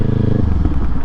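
Kawasaki Z400 sportbike with stiff suspension, ridden slowly over bumps through a neighborhood: a close, steady engine drone that shifts lower partway through, with faint clatter over it.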